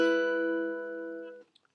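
A single chord strummed on guitar from the intro of a song, played once and left ringing with rich sustained harmonics that slowly decay over about a second and a half, then a faint fingering noise.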